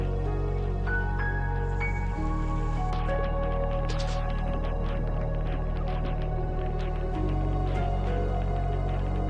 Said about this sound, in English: We've got a fair bit of water coming down